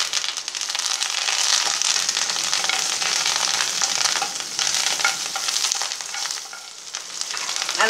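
Curry leaves fry in hot oil with chillies for peanut sundal, a lively sizzle crowded with sharp crackles and pops that holds steady for several seconds.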